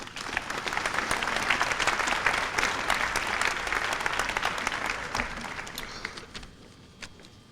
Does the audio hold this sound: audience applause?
yes